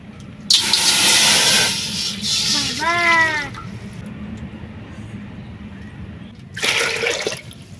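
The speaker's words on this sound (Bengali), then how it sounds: "আগে হাঁড়ির মধ্যে জলটা দিয়ে দিই, না হলে হাঁড়ি তেতে যাবে" Water being poured into a cooking pot before rice is added, heard as two bursts of splashing and rushing, a longer pour at the start and a shorter one near the end, with a brief whistling squeak between them.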